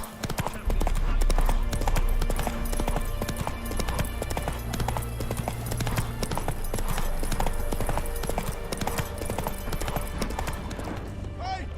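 In The Witcher 3, the horse Roach gallops in steady rapid clip-clop hoofbeats alongside game music and ambience, with occasional snorts and voices talking over the hooves.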